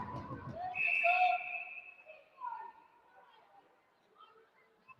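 A referee's whistle blasts at a youth Pee Wee AA ice hockey game, one shrill sustained tone over arena noise, with a quieter second tone after it and play-by-play talk underneath.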